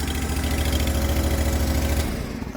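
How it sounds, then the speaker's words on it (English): A Steiner 430 tractor engine idles loudly and steadily with a deep, even rumble that continues unbroken, with no talking. "Turn the tractor off."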